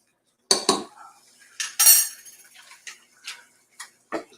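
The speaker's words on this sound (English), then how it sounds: "Give it a quick stir." A metal spoon stirring a pot of banana pudding popcorn in a kitchen: a few sharp clinks against the pot, then lighter scraping taps spaced out over several seconds, close and clear with no talking.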